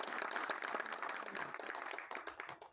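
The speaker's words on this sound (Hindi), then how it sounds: "तो एक बार थोड़ी जबरदस्त तालियां आनी चाहिए।" Audience applause at a film promotion event, a dense wash of clapping from a crowd that stays fairly even, then thins and tapers off near the end.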